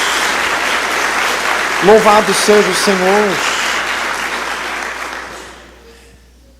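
A church congregation claps steadily in a dense round of applause while a voice calls out briefly over it, the clapping fading out near the end.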